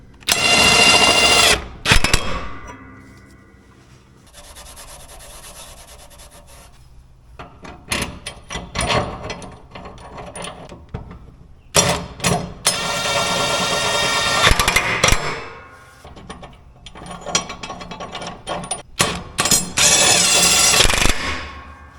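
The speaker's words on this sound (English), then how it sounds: "I turned down the torque on the gun, and I'm just going to snug these up" An impact gun with its torque turned down snugs up mower blade bolts in several bursts of loud whirring and rattling, separated by quiet pauses and some clanking handling noises.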